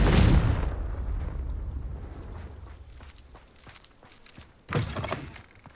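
A Confringo spell explosion in Hogwarts Legacy, a sharp, heavy blast that rumbles away into faint crumbling debris and a few soft thuds, with a second muffled impact near the end.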